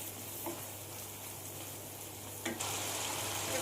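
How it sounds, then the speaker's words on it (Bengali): Chopped tomato cooking down with spice masala in a pan for a tilapia fish curry, a steady low sizzle throughout with a brief stirring scrape before it grows slightly louder. "মশলার সাথে আমি 3-4 মিনিটের মতো টমেটোটা কষিয়ে নেব"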